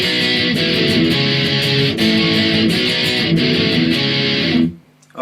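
Distorted electric guitar playing the pre-chorus of a song, loud, thick chord strums with regular rhythmic accents, ringing steadily then stopping sharply near the end.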